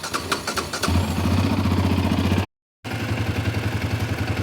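A Yamaha Raptor 700R ATV engine idles close by with a lumpy, pulsing single-cylinder beat, starting after a few clatters and holding steady, with a short cut partway through.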